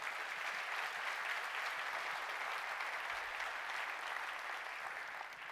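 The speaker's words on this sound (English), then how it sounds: "Let's give them a special round of applause." A conference keynote crowd claps steadily for the sponsors, a dense, even wash of applause holding at constant loudness throughout before easing slightly at the very end.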